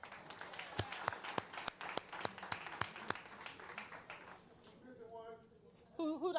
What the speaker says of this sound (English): You guys were clapping when I said it.